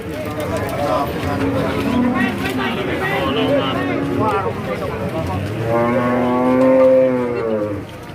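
Black cattle low at a busy cattle market, Pahing, with Limousin-Brahman crosses and Angus feeder stock, sustained bellowing moos rising near the end over a crowd murmur.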